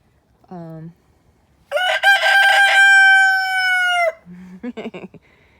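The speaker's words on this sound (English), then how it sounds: "my little rooster, or one rooster, and all of our chickens." A rooster, kept with chocolate Orpington and Rhode Island Red hens, crows loudly and close in one long drawn-out call. Short clucks from the chickens come just before and after it.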